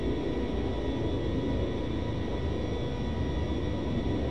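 Low, steady engine growl and rumble of a Boeing 707 in a flight simulator game, a continuous droning hum with no breaks and no talking.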